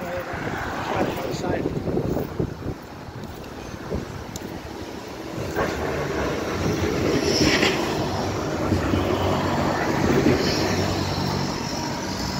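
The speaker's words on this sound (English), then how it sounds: "Got tram coming, so just be careful." A tram rumbles past outdoors in Blackpool during the 2021 Illuminations, a steady low mechanical roar with wind buffeting the microphone and a voice speaking over it.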